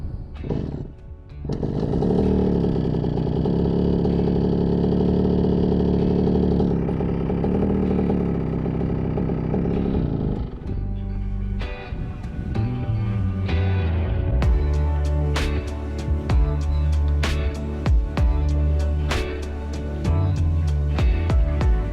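125cc two-stroke motorcycle engine running in first gear: a loud, continuous buzzing rasp that holds steady, then revs up and down, close to the machine, with no talking.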